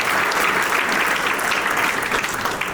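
Sustained applause from an event audience in Hungary, a dense, steady clapping that fills the whole stretch at close range with no talk over it.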